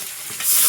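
Prawns dropped into hot oil in a wok, a brief sizzle that swells louder toward the end.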